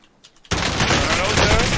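Sustained automatic gunfire in Warzone erupts after a brief quiet lead-in, a dense, loud rattle of rapid shots that continues to the end, with faint voices underneath.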